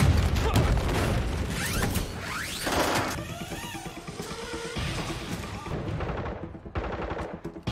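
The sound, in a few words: gunfight in a film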